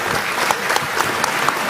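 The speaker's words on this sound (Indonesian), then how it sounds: "Tepuk tangan buat Mas Usman bin Affan." Audience applause at an Islamic religious gathering, a dense stretch of steady clapping from a crowd, fairly loud and sustained with no talk over it.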